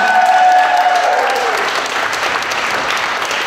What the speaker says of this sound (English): Big Daddy Don Garlits, a big round of applause